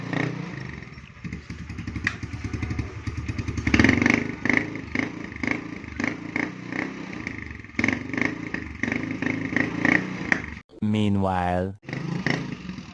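A motorcycle being test-ridden to check that it runs without problems: its engine rumbles and revs unevenly with clattering thumps, rises to a surge, then a sharp revving whine near the end, with people talking throughout.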